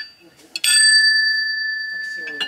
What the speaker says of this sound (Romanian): De ce au pus sonerie de bicicletă?